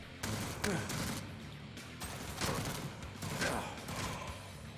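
Gunfire in the video game Jupiter Hell: a few loud bursts of shots separated by short pauses, sounding fairly close within a steady game background, with no talk over them.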